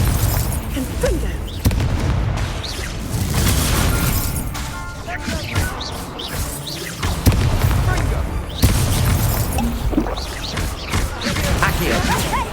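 In the Hogwarts Legacy video game, Confringo fire spells burst repeatedly during a wizard duel, giving dense booming blasts and crackling impacts over a continuous loud game soundscape, with a voice calling out spells.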